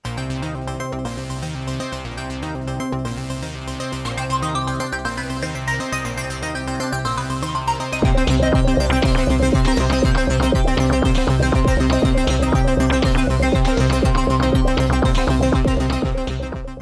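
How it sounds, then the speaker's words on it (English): Software synthesizer music played at home with no acoustic instruments: a sparse pulsing electronic pattern that fills out halfway through into a louder, denser beat with sustained synth tones. "It's me playing with synthesizers at home,"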